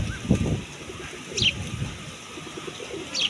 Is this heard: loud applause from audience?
no